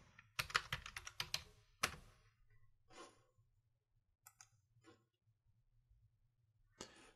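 A web address is typed on a computer keyboard in quick, close bursts of keystrokes. Slower scattered taps follow over a faint low hum, with no voices.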